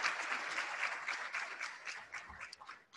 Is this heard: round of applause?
yes